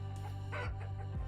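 Chickens and a rooster cluck in the farming video game Vintage Story, several close, clipped clucks and short squawks over a steady low hum, with no talking.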